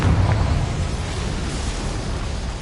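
A Confringo fire spell explodes in the video game Hogwarts Legacy, a loud dense burst at the start that rolls into a sustained roaring rumble for the rest of the moment.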